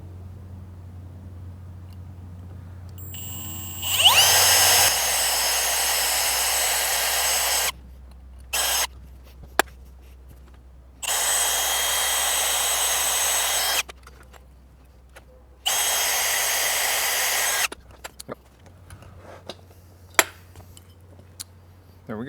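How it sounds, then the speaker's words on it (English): A power drill bores through a Subaru WRX STi brake duct flange clamped in a vise, sounding as several loud, steady whirring bursts separated by silent gaps, with faint clinks between runs. "I'm just gonna drill through here."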